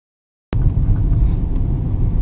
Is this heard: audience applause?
no